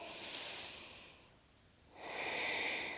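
Deep yoga breathing, with a long, airy inhale close to the microphone, a pause of near silence, then another long breath drawing in and out.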